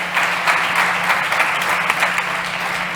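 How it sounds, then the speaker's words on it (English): Steady applause from an audience at a startup pitch competition, dense and continuous clapping filling the whole stretch without pause after a founder's pitch. "give a big round of applause for Juanjo"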